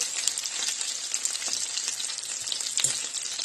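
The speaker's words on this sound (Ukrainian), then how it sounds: "Так, чекаємо, коли посмажаться." Ukrainian-style cutlets sizzle steadily in a frying pan, a dense, even crackle of hot oil with small pops running throughout, fairly close and with no talking.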